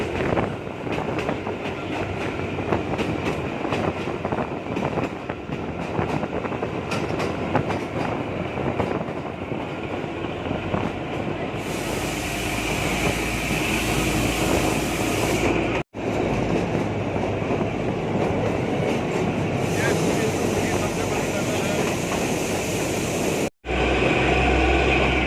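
Kalka to Shimla toy train on its narrow-gauge mountain line rumbles and clatters loudly and steadily, with continuous wheel and carriage noise and a roaring swell as if passing through a tunnel.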